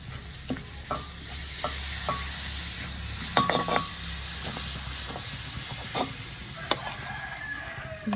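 Meat marinated in yogurt, ginger and garlic sizzles steadily in a pan, with a constant frying hiss and occasional clinks and scrapes of stirring, close up and with no voices.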